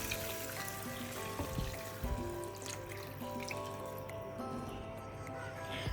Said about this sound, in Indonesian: akan aku tambahkan air.